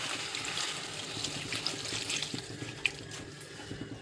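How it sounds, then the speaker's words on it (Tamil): Water sprinkled over soya chunks seasoned with salt, turmeric and chili powder in a pan: a soft, continuous trickling and splashing, faint and close, with a few small clinks. "இப்போ தண்ணி தெளித்து விட்டுக்கலாங்க."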